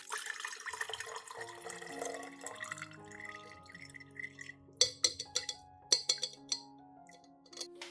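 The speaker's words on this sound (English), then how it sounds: "I carefully strain them to remove all the residue, keeping only the nutrient-extracted liquid" Strained rice and shallot water trickles and drips into a container, fading to sparse, distinct droplets and small splashes, close and quiet with no voices.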